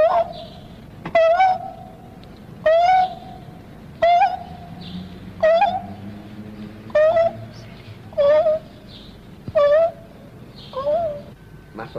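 A human voice imitates a dove's song, giving about nine short, rising hooting coos at a steady pace. Each call stands alone, with quiet, murmuring background noise in between.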